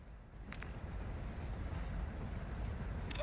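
Train ride in the video game Call of Duty DMZ: a steady low rumble of rolling rail cars fills the whole stretch, with faint high clicks and squeaks over it.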